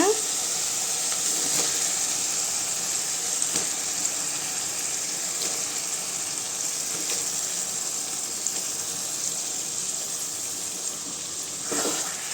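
Goat intestines sizzle steadily in hot oil over fried, softened tomatoes, a continuous close frying hiss with faint clinks of a stirring spoon throughout.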